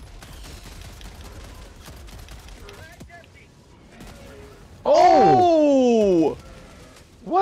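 Mortar fire and gunfire in the video game Helldivers 2 while defending generators against bugs, a rumbling stretch of distant shots followed by a loud sweeping barrage of whistling, descending tones lasting over a second.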